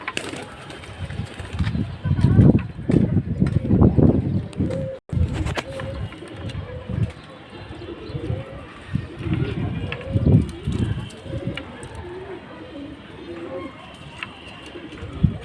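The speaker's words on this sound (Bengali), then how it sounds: "আর কবুতর সবগুলাই নেমে গেছে। খাবার দিব এগুলাকে।" A flock of pigeons cooing on the ground after landing to be fed; soft, low coos under nearby talking, with shuffling and wing movement and a sudden sharp knock partway through.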